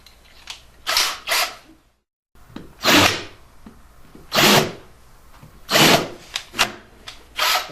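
A power drill spins a flanging tool inside holes drilled in fiberglass for a rod holder, in several loud, rasping bursts of a second or so with short pauses between them and one full silent gap.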